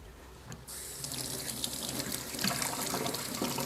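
A ladle being rinsed under a running kitchen tap, with water gushing steadily into the sink, close and fairly loud, growing slightly fuller as it goes on.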